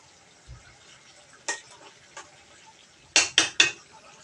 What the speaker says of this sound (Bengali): ঘি দিয়ে একটু নাড়াচাড়া করে নেব